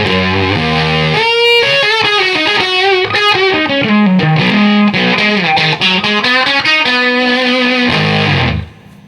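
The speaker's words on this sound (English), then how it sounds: "by just placing the sonic distortion even in bypass mode with a buffer in it, you'll notice how it changes the fuzz sound" Heavily fuzzed electric guitar played through a Voodoo Lab Sonic Distortion pedal, loud and saturated, with a run of sliding, bending notes and chords that cut off near the end.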